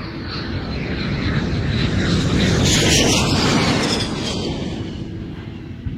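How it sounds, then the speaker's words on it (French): A Uruguayan Air Force Fairchild aircraft taking off, a broad, loud engine roar that swells toward the middle and eases slightly, steady and continuous with no talking. "À 8h05, le Fairchild numéro 571 de l'armée de l'air uruguayenne décolle."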